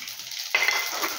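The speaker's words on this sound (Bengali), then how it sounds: "গোটা জিরে দিয়ে নিলাম" Whole cumin seeds hit hot oil and set off a sudden bright sizzle after a brief near-quiet moment, then crackle steadily and close up to the end.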